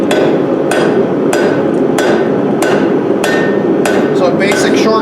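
A blacksmith forges a ball-ended leaf hook, planishing away hammer marks at a cooler heat. About eight sharp, ringing hammer blows land at a steady, even pace over a constant loud background roar.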